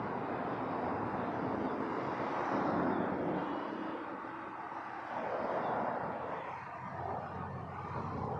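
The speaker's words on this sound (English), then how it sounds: "Airbus A320." An Air Canada Rouge Airbus A320 at Toronto Pearson gives a faint, distant, steady jet engine rumble with a slow swell, heard alone.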